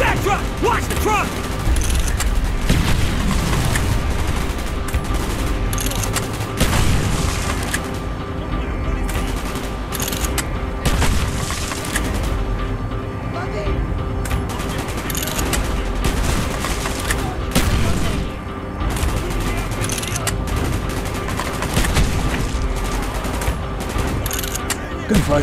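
Sustained video-game gunfire from Call of Duty Black Ops fills the clip, dense fusillades and machine-gun bursts with booms, continuous and loud, with voices talking over the battle.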